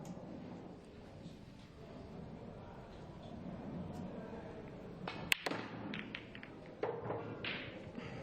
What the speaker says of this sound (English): Red to bottom left and fire into the cluster.